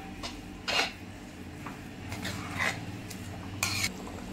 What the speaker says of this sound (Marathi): चांगलं ढवळतच राहायचंय कंटिन्यू, मंद गॅसवर असं छान